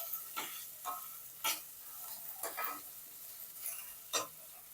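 Finely chopped potato fries in a pan for sabudana khichdi, a quiet, soft sizzle punctuated by about eight light, evenly spaced spatula strokes, heard close with no voices.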